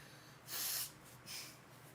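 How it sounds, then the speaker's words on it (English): Someone blows their nose in two forceful, breathy bursts, one long and one shorter, close and fairly quiet. "I'm just going to be gross and blow my nose."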